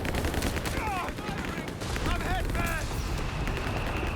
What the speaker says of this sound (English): Taking a shot from the AT bunker.